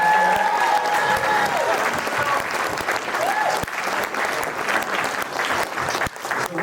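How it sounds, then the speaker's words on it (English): A crowd at a film trailer release event in Indianapolis applauds steadily for several seconds, a full, even round of clapping heard up close. "Everybody give her a round of applause."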